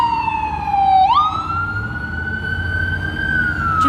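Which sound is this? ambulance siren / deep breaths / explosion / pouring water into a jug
ambulance siren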